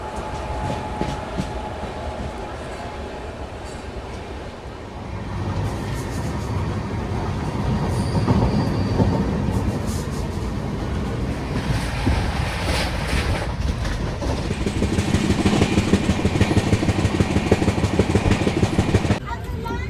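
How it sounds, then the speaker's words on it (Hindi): Vikramshila Express train at Prayagraj railway station at night, a steady loud rumble and clatter of wheels that builds and grows louder toward the end, with wind buffeting the microphone and someone talking over it. "अंधेरी रातों में प्रयागराज रेलवे स्टेशन से।"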